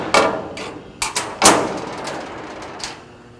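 A hammer strikes a prick punch on metal: several sharp, close metallic taps, two of them in a quick pair, each ringing briefly before it fades.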